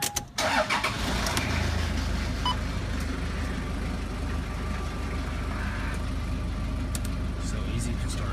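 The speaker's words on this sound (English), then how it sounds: "I'm just gonna start off the car." A 1997 Toyota Land Cruiser Prado TX turbo-diesel 4WD cranks briefly and fires, then settles into a steady, close diesel idle with a low rhythmic clatter that continues to the end.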